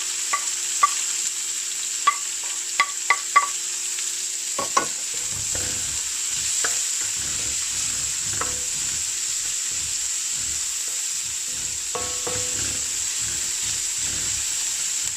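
Garlic and onion stir-frying in a pan, a steady bright sizzle throughout with scattered clinks and scraping stirs of a utensil, close and continuous for about fifteen seconds without talk.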